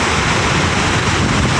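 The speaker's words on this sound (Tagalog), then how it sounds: "pero ngayon po tingnan nyo naman po yung alon, namumuti at habagat po yung hangin mga ka-fishing" Strong wind and whitecapped waves on the Manila Bay shore in the late afternoon, a loud continuous roar of surf and wind buffeting the microphone with no break.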